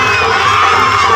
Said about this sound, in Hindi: जोरदार ताली बजाकर अभिनंदन कीजिएगा